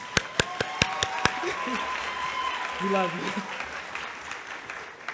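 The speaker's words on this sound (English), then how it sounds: "let's give her a round of applause" Graduation audience at the Springfield Conservatory of the Arts claps steadily at moderate distance, with a few sharp claps standing out early on, while a voice calls out over the applause.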